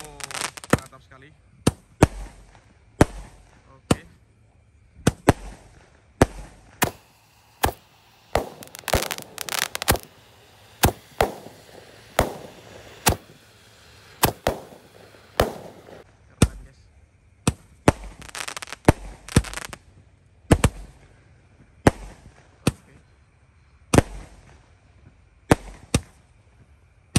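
Jumbo Roman candle fireworks fire at night for New Year 2023 in a long, irregular barrage of sharp, loud bangs and cracks. The shots come in quick clusters with brief pauses between volleys.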